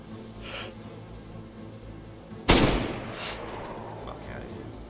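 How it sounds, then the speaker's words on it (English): A single loud M16 rifle shot in a video game rings out sharply mid-clip and decays over a second, with heavy breathing and muffled movement around it. "That's the M16 we heard."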